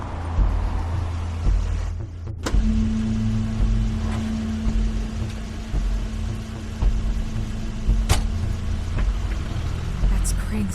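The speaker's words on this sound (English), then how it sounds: "That's Crane's car." A car in the video game The Wolf Among Us rumbles nearby with a low, steady engine idle under music and ambience, with a few sharp clicks and knocks, like a door, breaking in.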